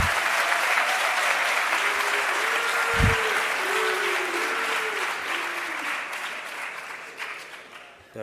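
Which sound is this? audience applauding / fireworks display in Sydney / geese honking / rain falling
audience applauding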